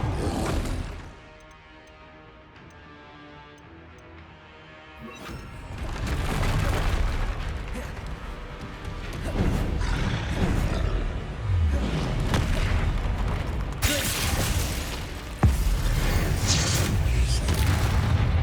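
Explosive Confringo spell blasts in Hogwarts Legacy, booming impacts and crackling bursts within dense combat noise, rising after a quieter opening into a sustained loud barrage with a sharp hit near the end.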